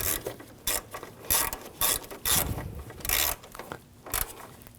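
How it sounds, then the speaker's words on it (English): A screw is driven and snugged down by hand while refitting the radiator on a 2007-2013 BMW 328i 3.0L inline-six, heard as bursts of close ratcheting clicks separated by short pauses. "Now I take the screw, get that started right here, and tighten that down."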